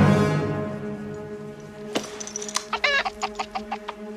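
Chicken clucking, a run of short sharp clucks following a sustained tonal call, close and loud with no talking.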